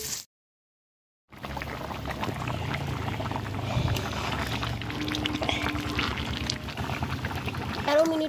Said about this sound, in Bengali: এবার আন্দাজ মতো জল দিয়ে ঝোল দেবো।